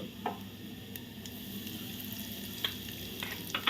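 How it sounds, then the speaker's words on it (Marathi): Mustard seeds, cumin and asafoetida sizzling in hot oil for a tempering, a soft steady fry hiss with a few sharp crackles and pops from spluttering seeds, close and fairly quiet. "तेल थोडंसं तापल्यावर आपण त्यात घालूया मोहरी मोहरीनंतर घालूया जिरं आणि आता घालूया हिंग"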